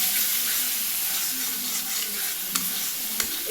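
Masala spice paste frying in oil for a Bengali pabda fish curry, a steady close sizzle with faint stirring scrapes and a couple of brief clinks.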